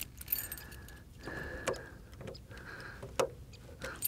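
Keys jangle and clink in short bursts while someone hunts for the key to a 1957 Mercedes 300 SL Roadster, with scattered metallic ticks and rattles at close range.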